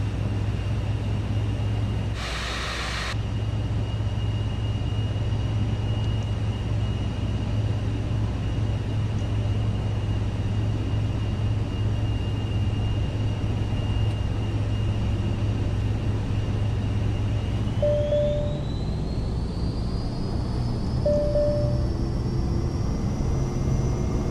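A Cirrus G2 in a flight simulator game rolls for takeoff on runway 22 with full flaps, its engine a steady loud drone throughout that rises in pitch partway through as speed builds.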